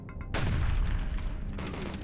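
Pistol fire in the video game HROT, a heavy booming shot that rings on loud and steady through the clip before easing slightly, with no talk over it.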